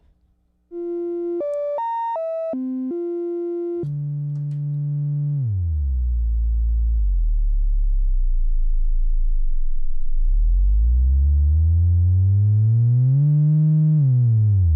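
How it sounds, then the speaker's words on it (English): Pittsburgh Modular Capt'n Big O synthesizer oscillator basic waveforms: short stepped pure beeps, then a deep droning bass that falls low and slowly sweeps back upward, steady and loud. "these are the basic waveforms of Big O."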